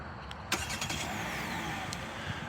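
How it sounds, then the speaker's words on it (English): A 2025 Kia K4 GT-Line's 2-liter four-cylinder engine starts remotely with a sharp crank and settles into a steady, moderately close idle hum. "And that 2-liter 4-cylinder will start right up."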